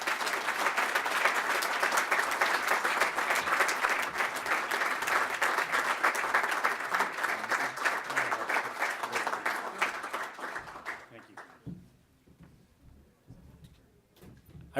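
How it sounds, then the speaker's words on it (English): Sustained, loud clapping from a crowded room at a chamber of commerce and industry awards gala, steady for about eleven seconds before trailing off into quiet murmurs. "I'd like another round of applause for Joe"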